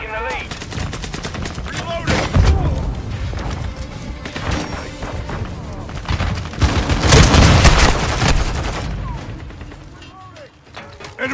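Loud, nearly continuous automatic gunfire fills a Modern Warfare 2 Team Deathmatch match on the cramped Shipment map, with dense overlapping bursts, mechanical weapon clatter and occasional short voice callouts.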